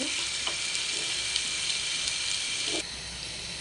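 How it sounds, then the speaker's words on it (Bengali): Onions frying until reddish-brown in a pan give a dense, steady close sizzle with a few faint stirring clicks, then drop a little quieter near the end, with no speech. "তো আমি পেঁয়াজটাকে একটু লাল লাল করে ভেজে নেব।"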